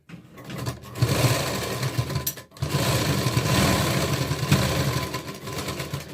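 Close and steady, a sewing machine stitches a katori blouse in a continuous rapid motor whir with needle chatter, broken by one brief pause partway through.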